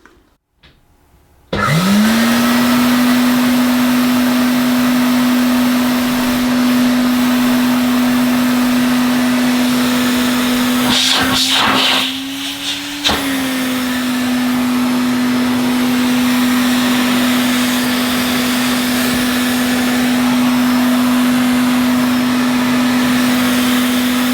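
Vintage Hoover Constellation model 867A vacuum cleaner, a British-made unit with a grumbly motor and air leaking where it shouldn't, switching on and running loud and steady close by, a brief rattle and dip in pitch midway, no talk.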